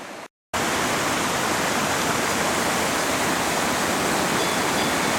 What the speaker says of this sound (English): Plenty of water around here.